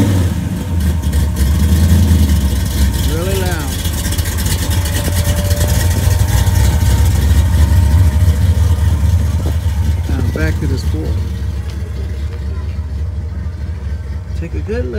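A 1955 Chevy Bel Air with a 289 high-performance V8 rumbles steadily at close range, swelling in a couple of revs at a street rod gathering, with crowd noise around it.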